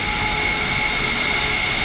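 A EuroCity passenger train runs loudly on its way into Prague, with a steady, dense rumble and a sustained high wheel squeal that stays close and unbroken throughout, and no voices.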